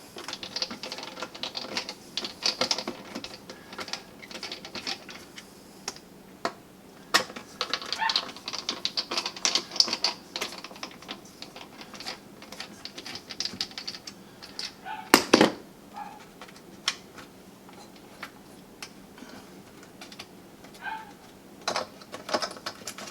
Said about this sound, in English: we're going to use our star wrench, or our star driver, and you'll see there's screws in the bottom here